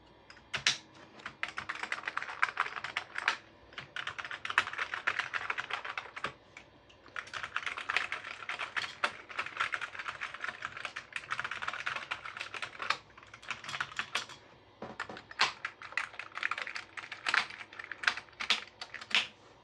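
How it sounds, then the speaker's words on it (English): Typing on a Commodore Amiga 500 keyboard, a known-good unit swapped in during testing: steady close bursts of rapid key clatter with a few brief pauses, no voices. "this keyboard from another Amiga 500 works fine, no problem"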